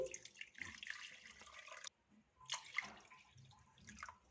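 Water poured from a measuring cup into a pot for making gur halwa, about two and a half cups; a close, splashing pour runs for a couple of seconds, pauses, then resumes more unevenly.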